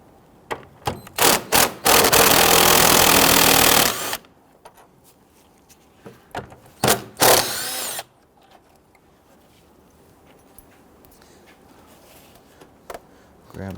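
On a 2011-2017 Nissan Quest, a power tool loosens and removes a 10mm bolt, whirring loudly in two long bursts with short ratcheting clicks and handling noises between them.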